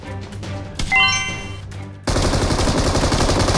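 AK rifle gunfire in a shooting game. A few scattered metallic shots and pings are followed by a sudden, dense, loud sustained burst of automatic fire, with no talking.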